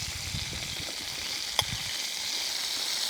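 Fennel sizzles in a hot pan among browned bits of Mangalitsa pork, a steady, fairly quiet crackle and hiss with one brief sharp pop partway through and no talk.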